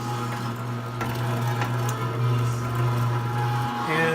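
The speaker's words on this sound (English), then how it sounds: "it's time to grind the brisket" A Weston 22 meat grinder runs steadily while grinding brisket for raw dog food, its motor giving a loud continuous hum with faint clicks and squishing mixed in, and no speech over it.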